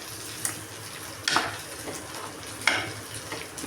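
Curry leaves sizzle in oil in a pan while a tamarind curry with dried turkey berries is being made: a steady frying hiss broken by three sharp crackling bursts from stirring, close and alone.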